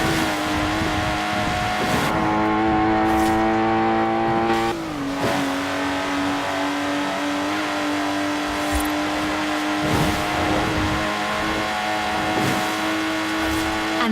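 A Lotus Exige sports car engine drones steadily in Forza Horizon 4, holding a loud sustained tone with a pitch shift as it shifts, plus brief tire noise and a faint voice underneath.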